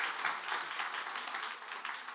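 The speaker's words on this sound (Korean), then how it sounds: "다시 한번 박수" Applause from a church congregation, a dense steady patter of many hands clapping at moderate distance, continuous and even throughout with no voices standing out.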